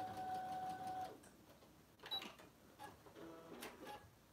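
A sewing machine stitches a simple messenger bag indoors, its quiet mechanical whir running in short bursts with brief pauses and faint clicks between them.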